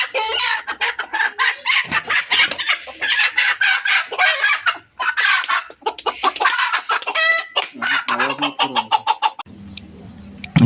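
A black hen clucks and squawks loudly and continuously as people try to catch her, with rapid agitated bursts throughout and a calmer stretch near the end.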